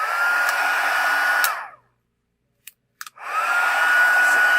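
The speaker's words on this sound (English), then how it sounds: "Now, this is Stampin' Up's heat tool. It has 2 speeds on it." Stampin' Up heat tool blowing hot air, a loud steady whirring hum that cuts off, leaves brief clicks in silence, then whirs back up to full strength.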